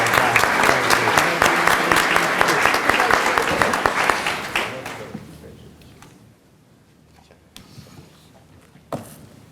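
At a school board of education meeting, an audience gives a round of applause for winning middle school science teams, steady crowded clapping for about five seconds that fades out, leaving a quiet room with a few stray knocks.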